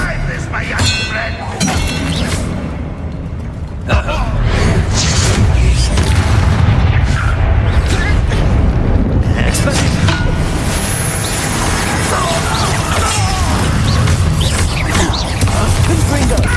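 Confringo and Bombarda spell blasts from the Hogwarts Legacy video game boom and clang in a loud, sustained battle din, one sharp impact standing out early, with metallic ringing and a voice cutting in now and then.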